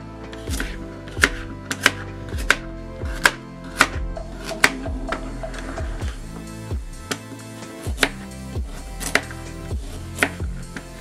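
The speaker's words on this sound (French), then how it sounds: "Puis on vient couper en morceaux les carottes." A knife cuts carrots into pieces on a board, producing a steady run of sharp, close chopping knocks spaced roughly half a second apart, heard alone without talk.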